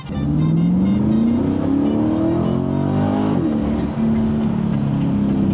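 A 2024 Corvette accelerates hard in a GTA game set in Miami's Wynwood district. The engine note climbs steadily and loudly, dips briefly as the gear changes, then holds its roar again, with no talking over it.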